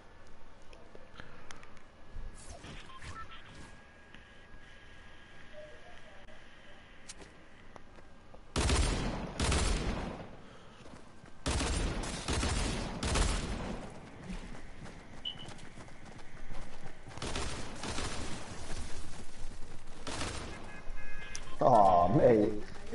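Gunfire in the video game Fortnite crackles in several sharp bursts of rapid shots over a steady game background, with talking heard across the clip.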